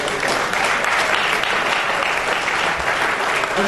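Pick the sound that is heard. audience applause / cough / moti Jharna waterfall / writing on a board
audience applause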